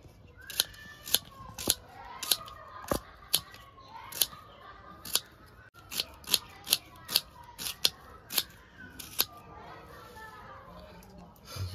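Onion being chopped into small pieces on a board for a spicy pangash fish fry, a series of sharp, close knife chops in an uneven rhythm, with faint talk underneath.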